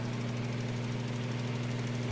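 A tractor engine in Farming Simulator 19 drones steadily at idle-to-medium revs, a close, continuous low hum with a faint rhythmic knock and no voices over it.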